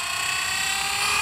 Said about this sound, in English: Haley does so good with her helicopter.